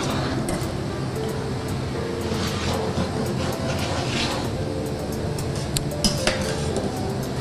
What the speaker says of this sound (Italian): Ora lo stai spadellando